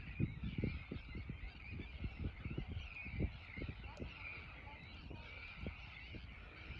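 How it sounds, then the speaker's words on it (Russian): Geese honk repeatedly in a noisy flock outdoors at the Kuyalnik estuary near Odesa in May, a continuous chorus of calls with steady background bird chatter. "Слышим, как птички поют."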